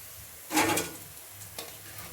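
Pieces of taro root (colocasia) being fried in oil, with a burst of stirring and sizzling that lasts about half a second, followed by a softer second scrape and a quiet background crackle, and no voices.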